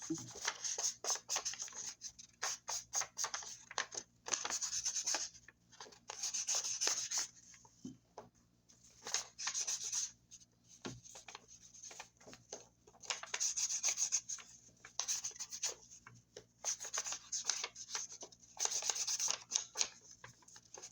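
Distress ink in Walnut Stain being rubbed along paper edges for a journal spread, close, soft scratchy swipes in quick irregular bursts with short pauses between.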